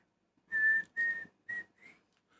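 Someone whistles a short tune of four clear notes, the first three steady and strong and the last weaker and rising, close up against near silence.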